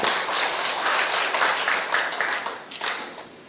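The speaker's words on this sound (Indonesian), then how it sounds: "Berikan tepuk tangan, haleluya." Applause from a church congregation during a sermon, a dense burst of clapping that holds steady and then tapers off near the end.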